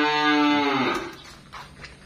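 A seven-month-old heifer on a cattle farm in Ba Tri, Vietnam, gives one long, loud, close moo that fades out, followed by quiet farm background.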